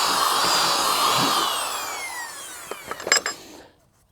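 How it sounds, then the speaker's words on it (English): A drill reams out a hole for a carriage bolt on a welded support bracket for a ground-level deck, whining steadily up close before winding down, followed by a few short scraping clatters and silence. "I just reamed it out a little bit to help me put that carriage bolt in"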